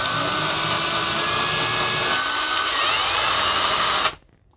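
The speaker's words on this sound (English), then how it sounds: "got the post all drilled out." A power drill bores out the plastic post of a Hot Wheels Flat Out 4-4-2 die-cast car, a loud steady whine with grinding that shifts pitch midway, then stops abruptly near the end, leaving near silence.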